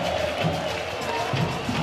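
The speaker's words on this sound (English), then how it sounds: "Crowd on their feet right now." A stadium crowd cheers and roars at a baseball game at Estadio Rod Carew in Panama, a dense, loud, steady wash of voices lasting only a moment.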